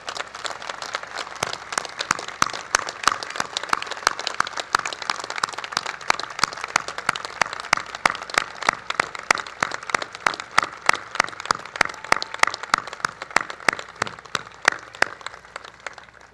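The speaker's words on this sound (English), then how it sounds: "Please give them a big round of applause." Sustained audience applause at the U.S. Coast Guard Academy commencement, many hands clapping steadily and fairly loud for the full stretch, with a dense crowd texture and no speech over it.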